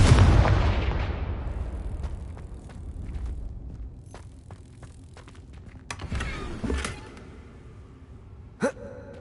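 In Hogwarts Legacy, the Confringo spell goes off with a heavy fiery blast that booms and then fades. Several sharper cracks and thuds follow at scattered moments, and one brief loud hit lands near the end.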